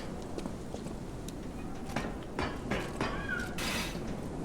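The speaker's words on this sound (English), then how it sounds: "Do you hear like a cat meowing?" A cat meows faintly a few times in the video game Lies of P, amid a steady ambient background with soft footstep-like taps, no speech.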